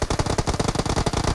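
Rapid automatic gunfire in the video game PUBG Mobile, a loud continuous burst of closely spaced shots. It is heard alone, with no voices.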